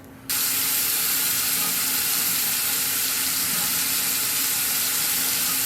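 After a brief quiet moment, tap water gushes on abruptly and keeps running steadily and loudly while a face is washed with Zoe Skin Exfoliating Cleanser.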